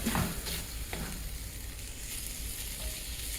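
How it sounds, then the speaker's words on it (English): Beans, ground beef and green chilies sizzle in a skillet as they are stirred, a soft steady frying hiss with a couple of light spoon scrapes near the start, close and without speech. "So stir your beans in. Let those green chilies mix in with those beans and that ground beef and get nice and warm."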